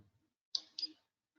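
A computer mouse's right button pressed twice in quick succession, two crisp close clicks in otherwise near silence.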